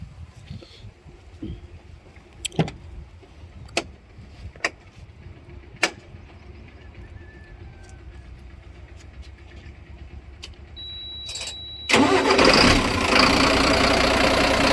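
A Bharat Benz 14-tyre lorry with about 7 lakh km on it sits quietly at first, with sharp clicks and taps. Near the end its diesel engine starts abruptly and settles into a loud, close, rumbling idle.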